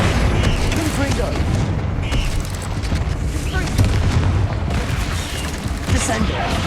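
A Confringo spell explodes in the Hogwarts Legacy video game, with dense, loud booming blasts that fill the whole stretch in a continuous rumbling barrage.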